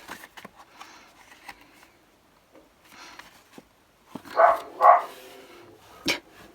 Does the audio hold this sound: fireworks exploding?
no